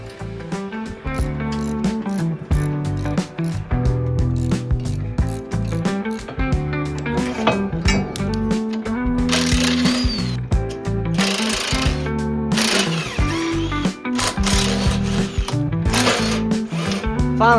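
Bolts being removed from the stainless deck cover of a lawn mower, with dense rattling mechanical clatter, ratcheting and bursts of whirring from a power tool running nearly continuously and close by.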